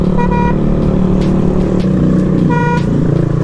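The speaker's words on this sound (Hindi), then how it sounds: "अब यार क्या ट्रैफिक लगा पड़ा है इधर" Busy road traffic with a steady rumble of engines, pierced by two short car horn toots, one early and one later, heard at close range with no speech.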